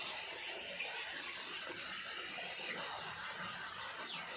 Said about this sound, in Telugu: ఇది ఒక చిన్నపాటి పంపింగ్ హౌసింగ్ పంప్ అన్నమాట. అంతా ఇక్కడ సిస్టమ్ అంతా ఇక్కడ కనెక్షన్ చేసుకొని మనకు వాటర్ ఇవ్వడం జరుగుతుంది డ్రిప్ సిస్టమ్.